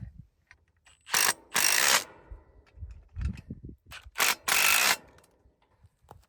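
Ratchet tightening a carriage bolt while fixing a stuck tire, several rapid clicking bursts of the pawl in two groups with quieter handling noises between them, close and loud.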